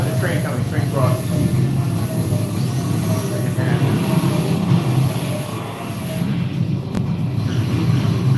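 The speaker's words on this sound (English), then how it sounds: "train coming, train crossing." A train passes at a railway crossing with a steady, heavy rumble and roar that stays loud throughout, with voices talking over it.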